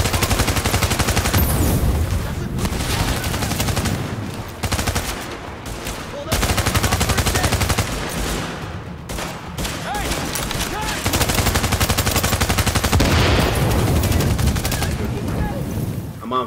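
Sustained automatic gunfire from a battle in Tom Clancy's The Division, loud and dense bursts that briefly drop out and resume, with explosive cracks layered through the firefight.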